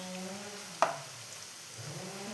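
Boondi, small gram-flour drops, frying in hot oil for a homemade mixture snack, a soft continuous sizzle with one sharp clink of a utensil partway through, close and quiet.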